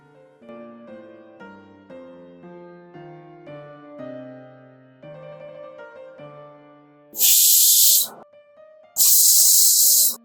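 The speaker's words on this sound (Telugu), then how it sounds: "ఒక గ్లాస్ వాటర్ పోసుకుని 2 విజిల్స్ వచ్చేంత వరకు ఉడకనిద్దాం" Banana flower cooks in water inside a pressure cooker, which lets out two loud, sharp bursts of hissing steam, each about a second long, after a stretch of melodic music.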